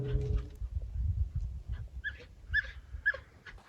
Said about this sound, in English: So the dogs were literally running away from the woods in fear, like whimpering almost.